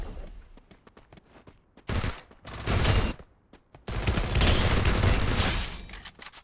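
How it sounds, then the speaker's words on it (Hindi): Gunfire in the mobile battle-royale game Free Fire, with a few quick shots early on followed by heavy, sustained bursts of automatic fire that swell loud in the second half. "उधर एक बंदा भी है, जिसको मैं फटाफट फायर करके ख़त्म कर देता हूँ"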